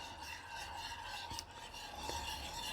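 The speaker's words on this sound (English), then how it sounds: "you're just going to mix it into your milk" Turmeric paste being stirred into milk, a soft, steady scraping and rubbing swirl that runs continuously at low level throughout, with no talking.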